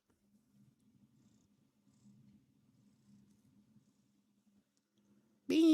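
A pet cat purrs softly and steadily close by, a low rumbling texture that continues for several seconds before a sudden loud burst of noise cuts in at the end.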